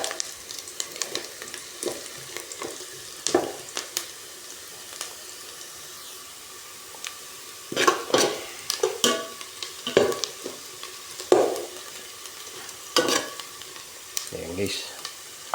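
Garlic sautéing in a pan for a fish soup: a quiet background sizzle punctuated by irregular bursts of stirring and scraping, with occasional brief watery sounds and no speech.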